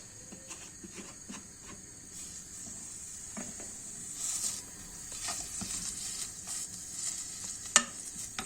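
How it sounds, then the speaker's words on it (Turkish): Continuous sizzling of minced lamb frying in a pot, with occasional scraping stirs and a sharp clink near the end. "Şimdi kıymamı kavuracağım arkadaşlar."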